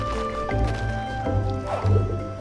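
Water spills and splashes out in the video game Ori and the Blind Forest, a soft liquid squish and dripping over steady game music and ambient tones.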